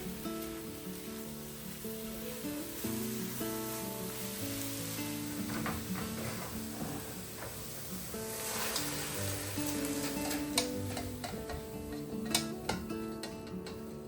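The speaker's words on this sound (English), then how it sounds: "I add a little more coconut oil to cook up the cashews" Cashews frying in coconut oil in a pan, a continuous close sizzle with light crackles and occasional stirring clicks that grow busier toward the end, and no voices over it.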